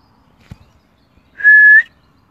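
A small bird calling at night mimics a police car siren, giving one loud, sustained whistled wail up close after a faint knock, with no talking.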